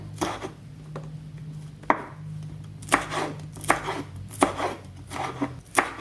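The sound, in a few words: slicing green chili diagonally with a knife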